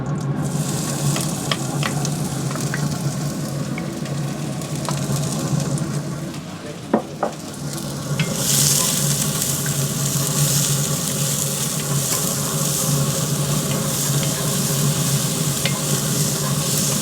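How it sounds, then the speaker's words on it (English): Onions sizzling in a hot pan on a Pit Boss Navigator 850 barbecue, a steady loud frying hiss that runs throughout with a few soft clicks, and the sizzle grows brighter partway through. "So now the pan is gonna be hot. And we're gonna put all of the onions."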